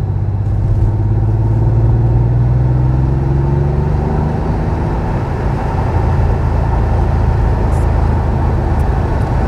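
A 1992 Porsche 964 WTL Cabrio being driven, its engine giving a loud, steady low drone with rising tones as it accelerates through the gears, heard from inside the car with road rumble throughout.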